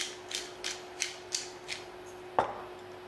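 Eggs seasoned with salt and pepper are whisked in a bowl for chicken fried rice, giving a few evenly spaced light taps and clicks followed by one sharper knock, close and quiet with no talking.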